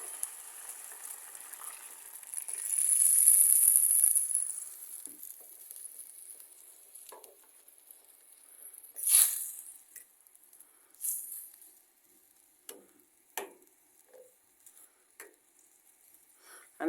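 Curry of tinned mackerel in coconut milk simmers in a pan, with a faint bubbling hiss and scattered soft pops and clicks, quiet and close.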